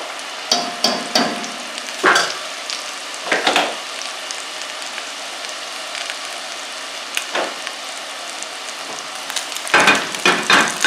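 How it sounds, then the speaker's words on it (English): Food crisps in hot oil during a second fry, a steady close sizzle broken by scattered louder crackles and pops, with no voices. "they're getting crispy back there. That's that second fry."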